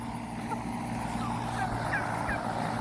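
A farmyard turkey gobbles several times, close and fairly loud, in short bursts over a steady low background hum, with no talking.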